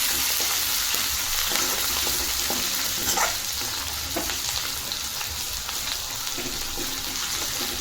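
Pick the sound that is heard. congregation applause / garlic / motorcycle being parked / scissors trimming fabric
garlic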